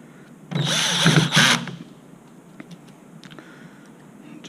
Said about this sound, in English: we'll start by fastening the motor gearbox back onto the chassis, lowering the torque a little bit